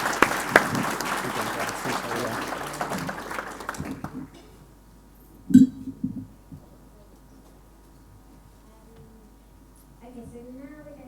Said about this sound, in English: one more round of applause for Doug,